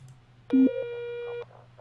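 A single electronic telephone tone from the emergency-dispatch video game 911 Operator: a steady, bright, harmonic beep with a brief lower opening pitch, holding for about a second over a faint background hum.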